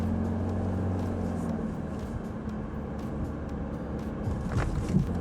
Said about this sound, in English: with a CVT transmission, you often get much louder cabin noise.